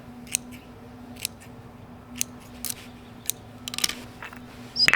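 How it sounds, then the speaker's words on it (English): Small scissors snip the roots of a cotoneaster bonsai, a series of crisp close clicks at irregular intervals over quiet background hum, ending in a quick flurry of cuts. "so now just trimming up the roots a little bit more"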